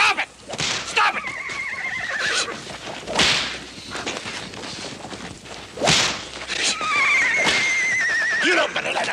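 A horse whinnies and neighs repeatedly amid sharp whip cracks and swishes, loud and close, with shouting voices mixed in during a rough attempt to break the frightened animal.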